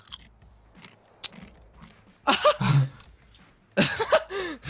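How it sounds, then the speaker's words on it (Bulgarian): Loud, close crunching and chewing in bursts, with sharp bites separated by quieter gaps and a few mouth sounds. "Кой хрупка така?"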